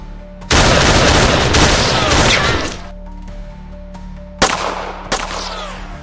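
Shotgun blasts boom loudly in a staged kitchen firefight, with a long roaring barrage of fire followed by two sharp, separate shots that echo away.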